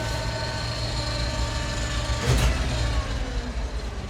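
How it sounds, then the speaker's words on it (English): A 50-year-old crane truck idles steadily, its engine running smoothly alongside a hydraulic pump, a continuous mechanical drone with a brief louder surge in the middle. "I can hear the hydraulic pump."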